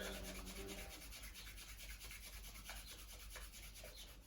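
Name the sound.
rubbing the feet during an exercise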